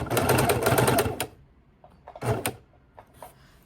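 A sewing machine runs fast while stitching a fabric baking dish cover: a loud, steady burst of rapid stitching for about a second, then a short second run and a few faint clicks, with no voices.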